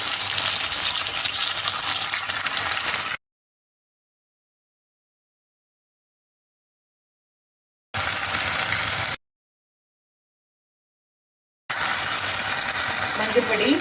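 Okra (vendaikkai) fries in a pan with tomatoes for a kuzhambu, giving a bright, hissing sizzle with stirring, heard in three separate bursts broken by silent gaps.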